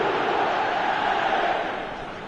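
A dense stadium crowd roars steadily in the eFootball 2025 football game, a loud sustained wash of voices that gradually fades at the end.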